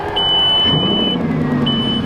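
Bugatti Veyron starting up: a loud, steady mechanical drone with low rumble throughout, overlaid by a high electronic tone that sounds, stops, and sounds again.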